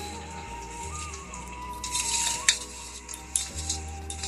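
Chopped onions scattered into hot mustard oil in a pan for mutton kosha give a soft, quiet sizzle. Brief hissing surges and a few light utensil clinks sit over a steady low hum.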